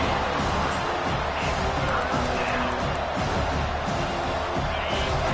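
A home crowd at a football game roars steadily in a broad, continuous wash of cheering that fills the whole stretch at an even level, with no clear voices over it.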